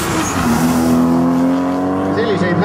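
A 240-horsepower race car roars close by, its engine holding a loud, rising tone with a brief tire squeal near the end.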